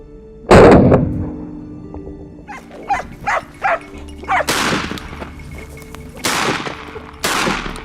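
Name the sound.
hunting dogs barking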